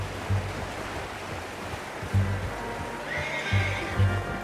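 A horse in the Red Dead Redemption 2 video game whinnies repeatedly, with loud low snorts and neighs recurring at intervals and a higher drawn-out whinny near the end, over a soft steady outdoor ambience.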